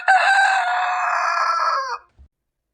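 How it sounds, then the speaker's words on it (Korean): A rooster crows at dawn, one long loud close crow held for about two seconds before breaking off, followed by a brief low thump and silence. "새벽 닭이 울었다."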